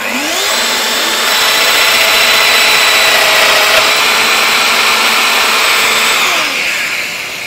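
A domino joiner runs steadily for about six seconds, a loud sustained motor whine as it cuts into an antique wooden dressing table under restoration, spinning up and winding down at either end.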